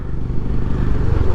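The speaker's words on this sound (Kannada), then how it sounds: "Performance silencer, ultimate silencer. ಅದು ಏನು ಸೆಕ್ಸಿ ಸೌಂಡ್ ಬರುತ್ತಂದ್ರೆ" Bajaj Pulsar 220F fitted with a performance silencer exhaust, its loud close engine note throbbing steadily with a deep, pulsing low rumble while riding.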